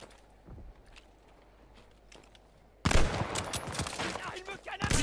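Gunfire in the shooter Call of Duty: Vanguard, starting with faint scattered shots, then a sudden loud, dense burst of rapid fire and crackling impacts that dominates the rest.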